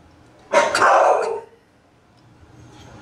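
A single loud, close dog bark bursts out beside an old penny scale, followed by quiet room noise.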